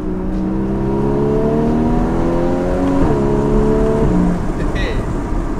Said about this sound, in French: Le son de la voiture, le son du flat 6, c'est vraiment un truc génial.